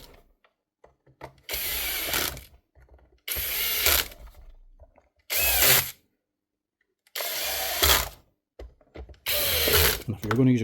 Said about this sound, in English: if you're going to use a cordless drill, reassemble it